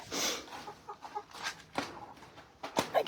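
Chickens cluck in a snowy run on a frigid morning, a few close, soft, irregular clucks and short calls over a quiet background.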